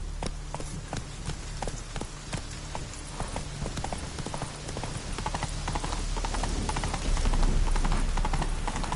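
Horse hooves clip-clopping in the video game Witcher 3, a quick, regular run of clear hoof strikes with a low rumble building toward the end.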